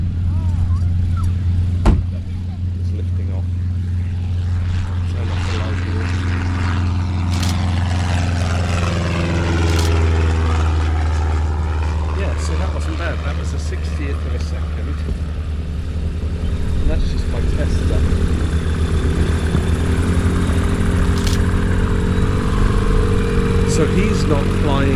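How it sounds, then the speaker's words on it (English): A Cessna propeller plane passes by at moderate speed with its propeller below full power, a steady droning engine hum rising and swelling across the pass, heard outdoors at a distance. "So I've got a normal Cessna coming along here."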